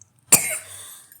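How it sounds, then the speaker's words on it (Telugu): A single sharp cough bursts out near the mic, followed by a brief raspy tail, with quiet around it; a man giving a Telugu devotional discourse cannot hold back his coughing. "దగ్గు ఆపుకోలేకపోతున్నాను"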